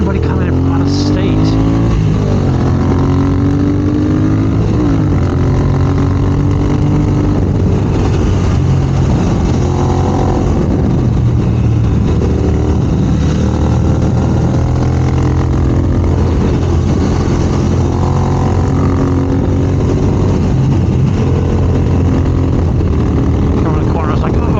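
A Triumph Speed Twin motorcycle engine drones loudly and steadily while riding, its pitch rising and falling with throttle changes under constant wind rush.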